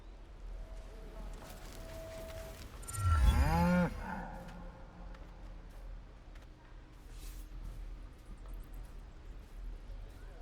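A cow moos loudly once in the Baldur's Gate 3 fantasy role-playing game, a single drawn-out, wavering low call rising over a steady ambient game background.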